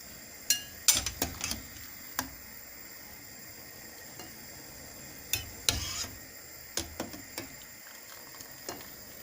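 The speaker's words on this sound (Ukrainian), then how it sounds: "Перемішаю, щоб та сіль розійшлася" Salted cabbage in a pot of boiling water being stirred with a utensil, giving a run of sharp clinks and scrapes over a low, steady bubbling, close and fairly quiet.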